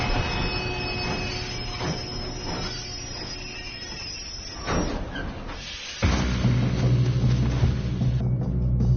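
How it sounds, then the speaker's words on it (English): Train wheels squeal and clatter on rails during a Red Dead Redemption 2 train robbery, a continuous loud metallic rumble with screeching tones that swells sharply about two-thirds through. "We have to stop this train."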